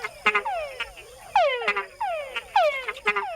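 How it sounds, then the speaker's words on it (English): Male frogs in the Panamanian wild call in repeated bursts, each a whine dropping into a sharp chuck, loud and close, in a rhythmic chorus with constant insect-like hiss behind. "Male frogs make the added chuck sound to attract females."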